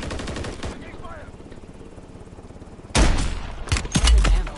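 Call of Duty gunfire: rapid machine-gun bursts open the stretch, then a quieter pause, then loud close automatic fire and heavy impacts return near the end.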